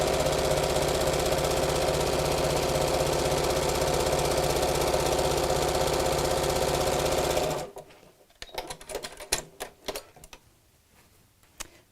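A sewing machine stitches a fat quarter tote bag in one loud, steady, rapid run of needle clatter for several seconds, then stops, followed by scattered clicks and handling noises of fabric being moved.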